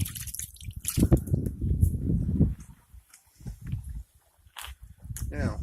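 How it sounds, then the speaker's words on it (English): Dirty water drains out of a small off-grid RV clothes washer, splashing and trickling in bursts that stop and start, with a person talking over parts of it. "That opens the valve, and all that dirty water comes out."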